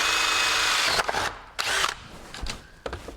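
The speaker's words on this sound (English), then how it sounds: "so I'm going to test drill" A power drill bites into nylon plastic in short bursts, a high whine cutting in and out several times with brief pauses between, close and fairly loud.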